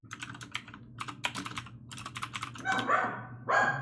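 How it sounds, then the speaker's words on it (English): A dog barks a few sharp, moderately close times near the end, following a run of rapid computer keyboard typing. "Oh, dog."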